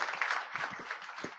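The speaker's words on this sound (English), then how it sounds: "let's give these guys a round of applause" Brief applause from a conference audience for panel speakers, a short burst of clapping that stays at an even level.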